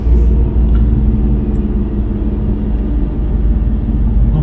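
A 2-litre Audi S3 8V with a stage 2 tune and an aftermarket exhaust idles close by, making a loud, deep, steady rumble with slight fluctuations and no speech.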